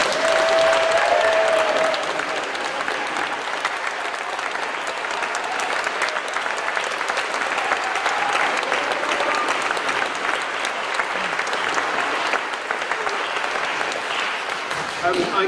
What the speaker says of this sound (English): I think we should now clap